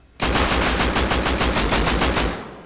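Rapid automatic gunfire in the video game Rust, a steady burst of about a dozen evenly spaced shots, loud and close, trailing off at the end.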